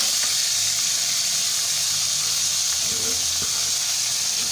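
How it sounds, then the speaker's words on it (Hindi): Ginger and garlic fry in a pan with a steady, bright sizzling hiss that stays loud and even throughout, with no pauses. "ये अदरक लहसुन है जिसको हम थोड़ा सा फ्राई करेंगे।"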